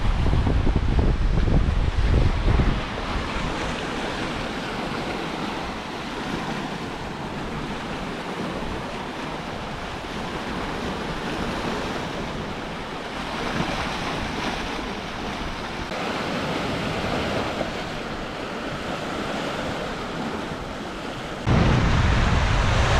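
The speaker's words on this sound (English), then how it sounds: "You feel the waves underneath of you and just be part of nature." Ocean waves wash continuously along the shore at a beach resort in Cayo Guillermo, Cuba, a steady rushing surf mixed with wind buffeting the microphone, with no voices.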